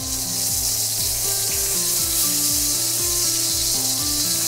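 Steady sizzling of Japanese hamburg steak frying in a pan over low heat, a continuous hiss with faint rhythmic bubbling, close and fairly loud, no talking.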